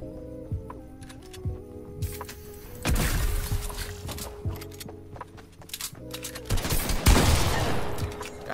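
Video game gunshots ring out as scattered sharp cracks over a quiet background, with a few heavier volleys and thuds clustering mid-clip and a loud burst near the end.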